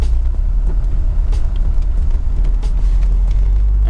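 Turbocharged car held on two-step launch control, its engine revving loud and close in a dense, steady low rumble with crackly bursts, parked on a road near houses.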